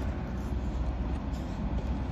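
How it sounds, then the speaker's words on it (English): An old Volvo 245 with a four-speed gearbox idles roughly, giving a steady, close, low engine rumble with no voices. "Motor's running. It's a bit lumpy."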